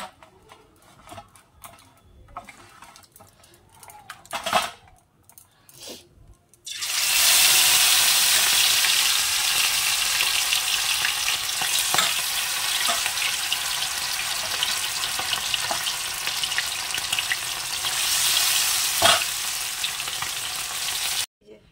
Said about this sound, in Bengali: সব চিকেনের পকোড়াগুলো ভাজা হয়ে গেছে